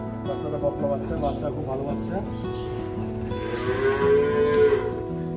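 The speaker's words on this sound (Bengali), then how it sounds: "হ্যাঁ, বিশাল বড় গরু এটি।" A very large cow gives a drawn-out low moo toward the end, close by, while people chat nearby.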